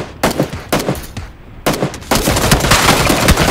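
Rapid bursts of automatic gunfire from a squad match in a shooter video game, loud and close, with a short pause before sustained firing resumes.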